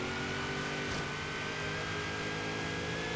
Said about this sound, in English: Come on, little supercharged LS. There's nothing little about you.